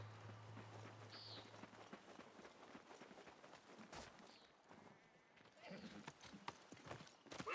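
Horses' hooves clip-clop at a walk in a video game set in a Middle Eastern city, a quiet, uneven patter with a brief whinny and faint background ambience.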